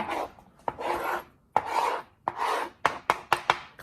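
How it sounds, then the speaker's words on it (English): A knife scrapes across a wooden chopping board to clean it off, several rasping strokes followed by a run of quick sharp taps, close and clear with no talking. "clean up the chopping board a little bit"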